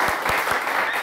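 Studio audience applause fills a Persian television show, a dense, steady wash of clapping from a crowd, fairly loud and continuous with no voices over it.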